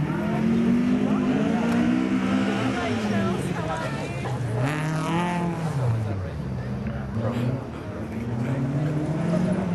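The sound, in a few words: Datsun Stanza rally car driven hard on dusty stage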